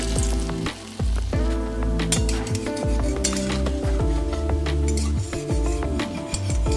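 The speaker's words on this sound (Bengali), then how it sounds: "ছোট ছোট বড়া শেপ করে ভেজে নিন" Red lentil fritters sizzle steadily in hot white oil in a kadai, with occasional clinks and scraping of a utensil against the pan throughout.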